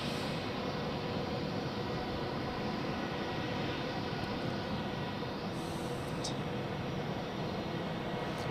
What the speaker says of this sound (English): Then here we have another Swiss A320 in Star Alliance livery off to Malaga.